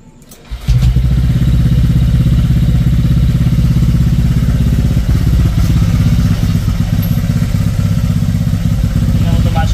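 Motorcycle engine cranks and fires after a brief quiet moment, then settles into a steady, loud, rough idle with some clattering, heard close up.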